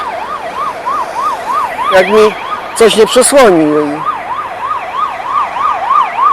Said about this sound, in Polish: słyszę jakąś karetkę pogotowia albo coś jadące w drugą stronę